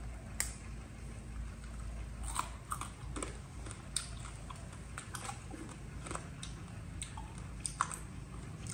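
Crispy fried insects crunched in the mouth, giving soft, close chewing with scattered sharp crackles over a quiet, steady background hum and no talking.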